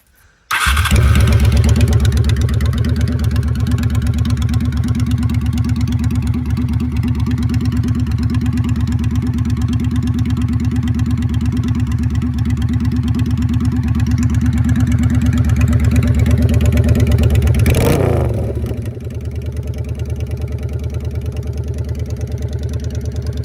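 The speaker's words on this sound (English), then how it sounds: "So I'll go ahead and fire the bike up now so you can hear what it sounds like with the pipes and the rejetting of the carbs there." A 1995 Honda VLX 600 bobber with aftermarket pipes and rejetted carbs cranks and fires up, then settles into a steady, loud, rumbling idle close by, with a brief rev blip before dropping to a lower idle.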